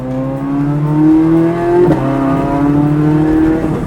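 Supercar engine pulling steadily under power on the Charlotte Motor Speedway track, its note rising smoothly with a brief gear-change break midway, heard close from inside the car.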